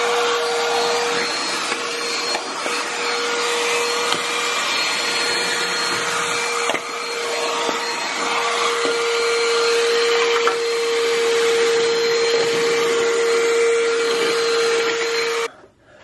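An XREXS portable handheld car vacuum cleaner running on household baseboards and corners, a steady high motor whine with airflow hiss, close and continuous, stopping at the end.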